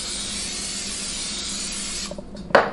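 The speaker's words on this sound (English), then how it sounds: "be sure to spray it with non-stick cooking spray so it does not stick." Non-stick cooking spray hisses in a steady, continuous jet into a paw-shaped cake mold for dog treats, close and even, ending with a short sputter and a light knock.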